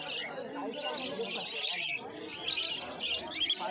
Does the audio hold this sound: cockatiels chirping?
yes